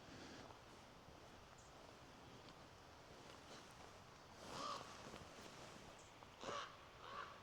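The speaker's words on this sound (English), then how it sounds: "Crows in the mountains." Crows caw in the mountains near McCloud, California, with a few distinct harsh calls in separated bursts, moderately distant, over a soft bed of wind and rustling leaves and no voices.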